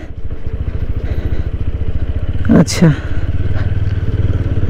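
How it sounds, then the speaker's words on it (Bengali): A motorcycle on a hill ride between Siliguri and Mirik throbs with a steady low rhythmic engine pulse close by, while someone speaks briefly over it midway. "বাইক নিয়ে আমরা এদিকে চলে এলাম।"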